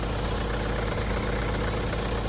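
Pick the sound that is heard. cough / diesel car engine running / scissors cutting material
diesel car engine running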